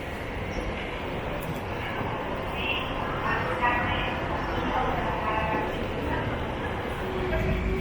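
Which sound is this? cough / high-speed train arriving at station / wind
high-speed train arriving at station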